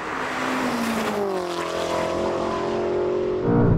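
A BMW M5 launches hard in a drag race against a Ferrari SF90, its engine note climbing quickly through the gears with a tire squeal near the start, loud and close and heard alone.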